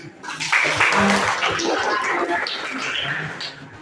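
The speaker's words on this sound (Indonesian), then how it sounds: "Sekali lagi tepuk tangan." A group in an Indonesian classroom or training session claps on cue, a brief burst of hand clapping that swells quickly and then tapers, with a few voices mixed in.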